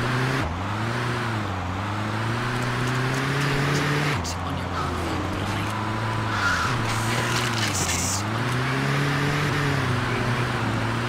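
A car drives in GTA 2 with a continuous engine hum that rises and falls in pitch in repeated swells as it accelerates and slows. A voice talks over it at times.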